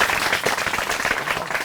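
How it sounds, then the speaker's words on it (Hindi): Short burst of audience clapping at a farmers' question forum in Lucknow, dense and steady for under two seconds at moderate level with no talk over it. "तालियां इनके लिए ज़रूर बजा दीजिए"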